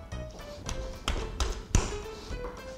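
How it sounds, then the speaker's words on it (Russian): A hand taps a raw pork fillet to tenderize it in a home kitchen, a handful of soft, irregular slaps and thuds on the meat, close and fairly quiet. "Отбивать его не нужно, просто достаточно рукой немножечко так постучать"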